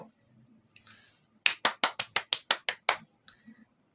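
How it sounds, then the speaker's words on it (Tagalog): Schoolchildren in a classroom perform a rain clap: about a dozen crisp, close claps in a quick, even rhythm, bracketed by faint murmuring before and after. "itong palakpak na ito ay tinatawag na rain clap"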